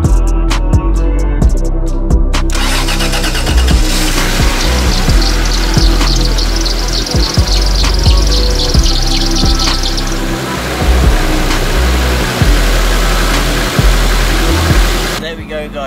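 A car engine idles after a spark plug change, a steady close rumble with a running rhythm throughout, while birds chirp in the background and a voice talks over it at times.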